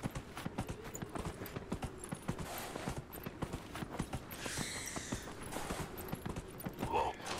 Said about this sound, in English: I'm gonna summon a horse because I don't want to walk.